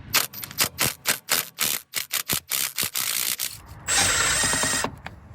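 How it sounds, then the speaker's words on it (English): A ratchet wrench backing out a bolt on a Ford F150 5.0 intake plenum, quick rhythmic clicking bursts close up, followed by a brief steadier rasping turn near the end. "You want to take that bolt off."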